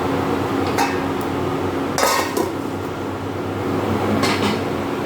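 A metal lid goes onto a pan of simmering paneer curry, with several sharp clanks and clatters spaced across a few seconds over a low background hum.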